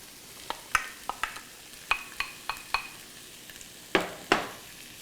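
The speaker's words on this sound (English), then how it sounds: "Nice hot pan here, that sizzle." Onion sizzling in a hot pan while cooking Thai red curry noodle soup: a soft, steady sizzle under a series of sharp clicks and scrapes from stirring, with two louder clanks near the end.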